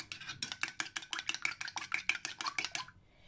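Rapid rhythmic clinking and scraping of a utensil whisking milk into beaten egg in a bowl, about a dozen quick strokes close up, then stopping.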